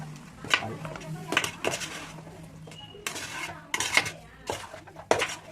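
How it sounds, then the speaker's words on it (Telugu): Chicken is stirred in a metal pan with a spoon, giving repeated sharp clanks and scrapes at irregular intervals over a low frying hiss. "చికెన్ వేసుకున్నా నేను. ఒకసారి కలబెడతాం."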